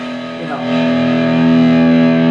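A sustained, thick distorted electric guitar chord through a Marshall JCM 800 pedal rings out, smooth and creamy, holding steadily with a slight swell after an initial strum.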